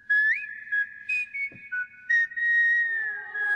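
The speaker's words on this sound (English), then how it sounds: "There's that whistle." Bright, melodic whistling from a K-pop girl-group finale performance, a series of short sliding whistled phrases followed by one longer held note, clear and close with no voices.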